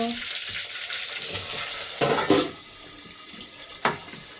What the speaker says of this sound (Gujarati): ચાલો હવે અમે વઘાર કરી રહ્યા છીએ। પહેલાં લસણ નાખશું